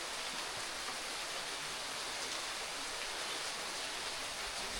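Heavy rain pours down in a steady, even hiss with no breaks, a dense wash of falling water heard alone without voices.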